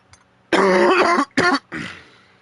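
A man clears his throat and coughs in a few harsh, close bursts, with a heavy rasp followed by a softer trailing cough and brief pauses in between.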